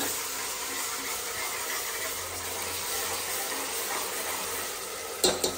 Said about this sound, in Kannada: ಈರುಳ್ಳಿ ಹಾಕಿ ಆದ್ಮೇಲೆ ಅದು ಚೆನ್ನಾಗಿ ಸ್ವಲ್ಪ ಎಣ್ಣೆಯಲ್ಲಿ ಮತ್ತೆ ಫ್ರೈ ಆಗಬೇಕು